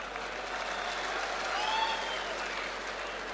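An audience applauds steadily and fairly softly throughout, a continuous wash of many hands with a few faint tonal sounds drifting over it.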